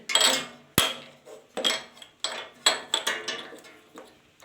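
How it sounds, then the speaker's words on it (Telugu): A metal spanner is picked up and handled at a Honda tiller's spark plug, producing a string of close, bright metallic clinks and knocks with short ringing decays, one sharp strike early on. "ఇది స్పానర్. ఈ స్పానర్ తీసుకొని"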